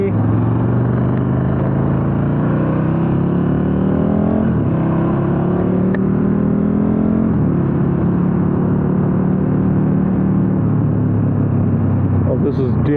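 A 2019 KTM 1290 Super Duke R Gen 2 being ridden: a steady, loud engine drone with rising and falling pitch as the throttle changes, mixed with wind rush and heard from the rider's position, with talk over it.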